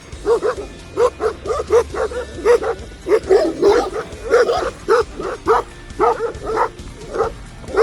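A pack of wild or shepherd dogs of mixed colours barking repeatedly along a roadside in the Greece–Bulgaria region, a loud, close, continuous string of overlapping yelps and barks with no talk.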